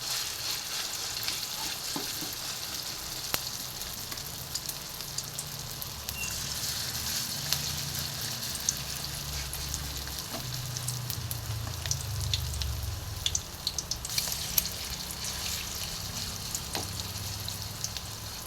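Okoy vegetable fritters fry in hot oil over medium heat, a steady close crackling sizzle with scattered pops and stirring clatter running throughout.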